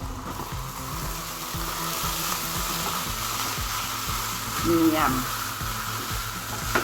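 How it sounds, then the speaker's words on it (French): Rice sautéing in a pot for a smoked-fish rice dish, a steady sizzle under rhythmic spoon scraping and stirring, with a brief voice murmuring once near the end. "Je fais revenir mon riz."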